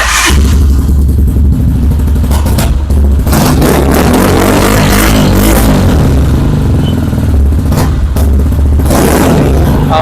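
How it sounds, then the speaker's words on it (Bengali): A single-cylinder Runner Rusi XL motorcycle engine runs loud and close, thumping and revving from its aftermarket exhaust with no talking. "এটা কিন্তু সিঙ্গেল সিলিন্ডার বাইক আর এখানে কিন্তু এসি প্রজেক্টের এক্সোস্ট আছে"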